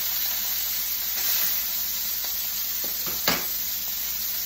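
A steak fries in a hot pan with a steady, close sizzle and hiss, a few brief pops and spatters breaking through near the end, no voices.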